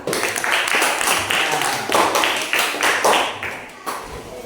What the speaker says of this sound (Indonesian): Oke, tepuk tangan. Kelompok 4.